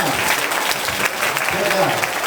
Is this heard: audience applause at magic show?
yes